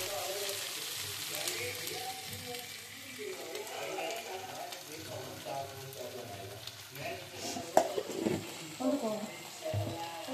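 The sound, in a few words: chicken tossed and fried over high heat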